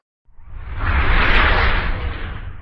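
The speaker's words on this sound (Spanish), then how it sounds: "Un fuerte aplauso, por favor." Strong applause from an audience at a Latin American progressive school event, rising quickly and holding as a dense, steady wash of clapping without voices.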